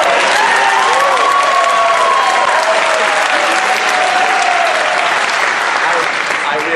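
Loud, dense audience applause with whistles and catcalls rising over it, sustained steadily throughout at close range, with a few voices mixed into the crowd noise.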